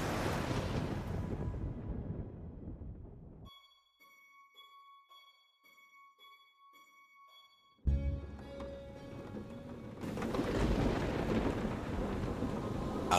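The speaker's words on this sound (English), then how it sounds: "Outside, the storm raged" A thunderstorm rages outside a lighthouse in the VR game A Fisherman's Tale, with rushing rain and wind, then a quiet stretch of soft tones before a sudden thunder crack brings the roaring storm back.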